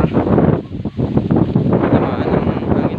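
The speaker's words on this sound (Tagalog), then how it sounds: "Malakas po ang hangin dito." Strong wind buffets the microphone in a steady, loud, continuous rumble with no clear gaps, at a banana plantation.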